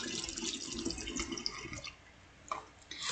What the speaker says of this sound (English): So I poured 1 liter of apple juice in my carboy.